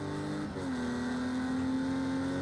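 Race car engine in a sim racing game held at full throttle in fifth gear, a loud steady high drone that briefly dips and then settles into a sustained, even whine.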